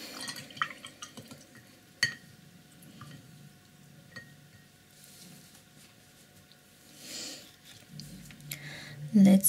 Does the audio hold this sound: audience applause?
no